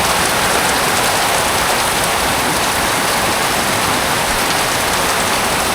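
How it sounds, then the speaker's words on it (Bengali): Heavy rain pours down steadily in a dense, loud hiss with no break and no voices. "প্রচুর বৃষ্টি, প্রচুর।"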